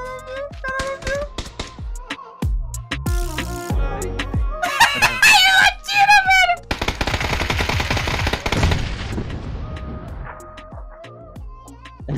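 Rapid gunfire and machine-gun bursts during a video game match, loud and dense, with excited voices shouting and laughing over the shots.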